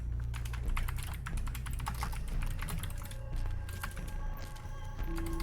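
Rapid, irregular clatter of computer keyboard typing during a game, dense keystrokes running the whole time over a steady low background hum.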